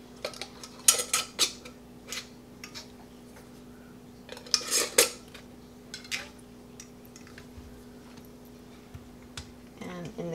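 Glass quart and pint canning jars set one by one into a pressure canner, with several sharp clinks and knocks clustered early and mid-way, close and moderately loud over a steady background hum.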